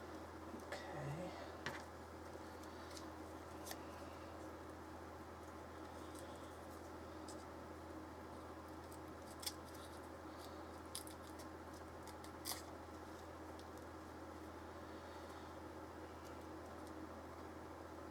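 Scissors snip excess trim off a handmade Marie Antoinette style fan, giving a handful of faint, sparse clicks spread over a steady low hiss, close by but quiet.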